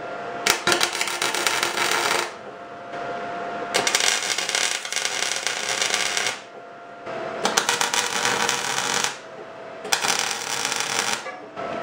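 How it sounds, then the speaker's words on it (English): Four long bursts of welding on a frame rail of a 1972 Toyota Celica pro-touring build, each several seconds of loud, dense crackling and buzzing separated by short pauses, close and alone without talk. "I'm going to weld it into place."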